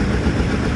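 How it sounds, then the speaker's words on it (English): A Farmall tractor engine revving, a loud, close, steady low rumble held throughout a very short stretch. "here the Farmall just a revving up"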